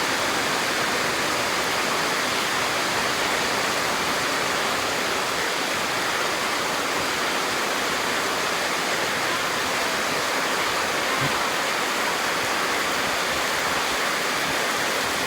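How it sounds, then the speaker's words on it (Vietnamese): A heavy downpour roars in a dense, unbroken wash across the whole stretch, close and loud, with no voices. "Mưa quá to."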